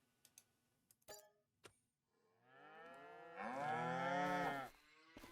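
A cow in Farming Simulator 25 gives one long, drawn-out moo that swells louder toward its end, heard close and clear over faint ticking clicks from the game.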